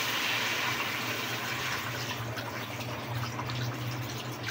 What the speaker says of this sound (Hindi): अब हम इसमें 1 लीटर पानी ऐड कर रहे हैं